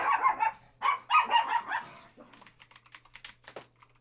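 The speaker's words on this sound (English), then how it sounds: "Sorry about the dog bark" A few sharp dog barks sound close up in quick bursts, followed by softer scattered clicks and taps.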